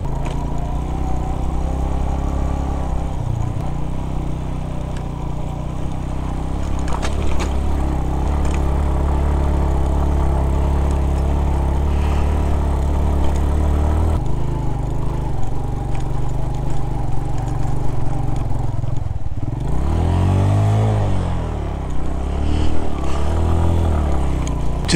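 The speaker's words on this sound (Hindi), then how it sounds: "उसमें मैं बाइक चला रहा हूँ" A motorcycle rides along a rough track through wide mountain meadows in Astore Valley, its engine droning steadily up close with rising and falling revs and a surge of throttle near the end.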